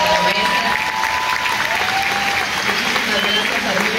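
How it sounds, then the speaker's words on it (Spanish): Audience at a children's and youth choir concert in Tijuana applauding loudly, a dense sustained wash of clapping, with voices mixed in. "Parte del coro infantil y juvenil de ese arte que hace fuerte aplauso a la maestra."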